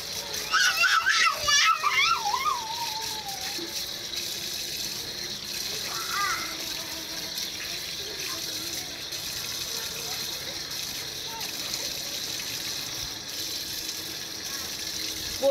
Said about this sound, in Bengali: এখন আমি কচু ডাঁটাগুলো ভালো করে পরিষ্কার করে ধুয়ে নিচ্ছি।